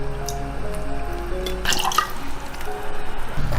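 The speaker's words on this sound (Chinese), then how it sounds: "羊肚菌泡发了，我们就把它洗一下" Water runs and drips as soaked morel mushrooms are rinsed under a tap, a close steady trickle with a brief louder splash midway.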